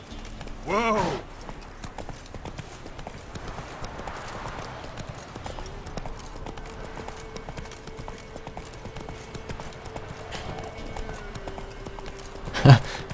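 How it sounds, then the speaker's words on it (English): Horse hooves clip-clopping at a gallop in The Witcher 3, a steady rhythmic patter running through most of the stretch under game ambience, with a brief whinny near the start and another near the end. "I think we better get the horse out for this one."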